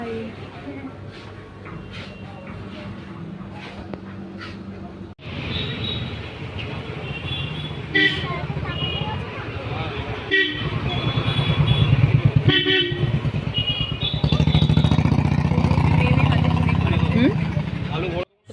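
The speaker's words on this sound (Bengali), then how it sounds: "কিছু বললে তো শোনাই যাবে না এত গাড়ির আওয়াজ" Busy street traffic roars steadily with repeated car horn toots and passing motorcycles, loud and close, while a voice talks faintly beneath the din.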